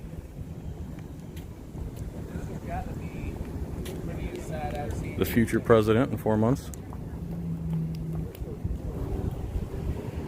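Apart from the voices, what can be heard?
water taxi boat passing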